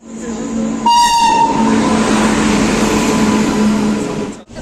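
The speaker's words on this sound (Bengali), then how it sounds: "এস ফোরে যাচ্ছি and the thing is I train ঢুকছে" A train pulls into a station, rumbling steadily past at close range while a loud horn blares briefly near the start, the rolling noise continuing to the end.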